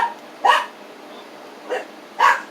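A dog gives three short, sharp barks spaced about a second apart, close and fairly loud over a quiet indoor background, reacting to a passing fire truck.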